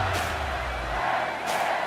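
A sellout college football stadium crowd of 90,000 roars in a steady, dense wash of cheering with swelling bursts, loud and continuous throughout.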